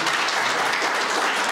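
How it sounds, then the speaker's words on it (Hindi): Brief burst of audience applause at a school career counselling session: dense, even clapping from many hands throughout, with no speech heard. "So I need एक बारी इन्हां वास्ते जरूर तालियां बजा दी जाए."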